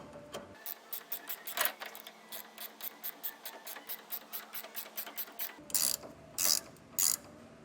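An 18mm ratcheting wrench turning a nut on a Jeep rear anti-sway bar, giving a steady series of close, sharp ratchet clicks at an even rhythm, followed by a few heavier, longer ratcheting strokes.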